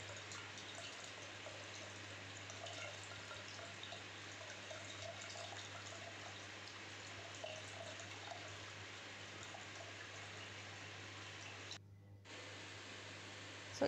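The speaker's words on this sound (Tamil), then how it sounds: "இதை நல்லா 2 டைம்ஸ் நல்லா வாட்டர் ஆட் பண்ணி வாஷ் பண்ணிக்கலாம்" Running water from a tap rinsing freshly made homemade paneer, a steady faint hiss and patter that continues evenly, with a brief cut near the end.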